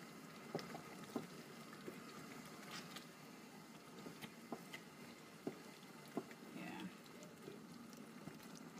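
Chicken jollof sauce simmers in an uncovered pot, a faint, steady bubbling with scattered soft pops and drips.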